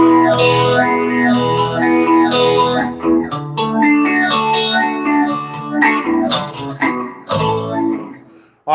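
Electric guitar played through a Luna reverb pedal, sustained bright chords and arpeggiated notes with a shimmering, wavering wash and long reverberant tails, loud and close with no talking.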